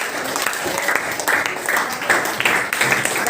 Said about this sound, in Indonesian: ini kita berikan aplaus untuk Aila ya